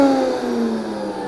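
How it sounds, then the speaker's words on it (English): Vitamix variable-speed blender motor running as the dial rises from 1 toward 10, a loud steady whir with tonal lines climbing in pitch, heard alone with no talk. "Turn the machine on, increase to 10 relatively slowly."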